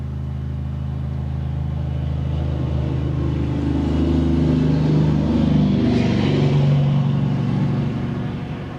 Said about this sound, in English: That sounded like a motorcycle instead of a tractor trailer truck.